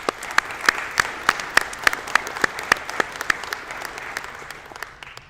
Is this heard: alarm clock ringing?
no